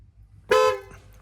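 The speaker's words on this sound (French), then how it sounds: "Mais ici, vous avez un petit klaxon." A small horn on a 4x4 gives a single short toot of about a quarter second, bright and nasal, standing out clearly over a quiet low background.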